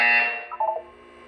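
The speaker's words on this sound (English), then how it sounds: "When you hear the buzzer, look down at the floor." A buzzer tone in the Portal 2 video game during a wellness exercise, a single loud, bright electronic tone that fades within half a second, followed by a brief wavering beep figure and then quiet.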